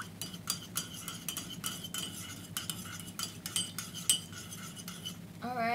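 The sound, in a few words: spoon stirring Thai tea with condensed milk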